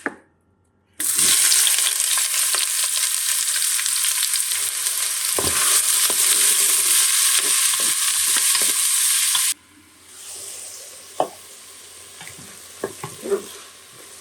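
Onions hit the hot bowl of a Cookeo multicooker with a sudden loud, bright sizzle that holds steady for several seconds with a few stirring knocks, then drops to a softer crackle broken by scattered clatters.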